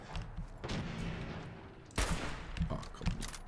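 Gunshots in the video game Fallout 4: a couple of hard, booming shots with rumbling tails, then a few lighter thuds, loud against a low background.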